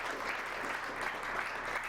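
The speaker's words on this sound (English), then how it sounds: "Can I get another round of applause for Dr." Steady audience applause after a talk, dense clapping filling the room without a break, fairly faint and evenly sustained throughout.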